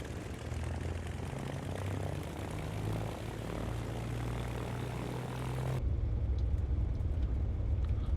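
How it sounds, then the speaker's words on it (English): A Bonanza airplane's propeller engine drones steadily at low power while back taxiing in the X-Plane flight simulator, with a constant low hum that shifts in tone partway through. "Bonanza 3 Whiskey Alpha Whiskey back taxiing runway 36."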